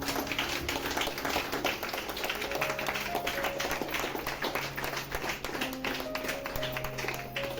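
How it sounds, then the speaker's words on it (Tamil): A group of people claps steadily during a fridge giveaway at a jewellery store, a continuous patter of many hands under faint background music. "கைத்தட்டு."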